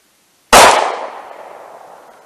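A single loud, sharp 9mm gunshot from a SIG P365 pistol firing Winchester Ranger T-Series ammunition outdoors, its crack followed by a long echoing decay.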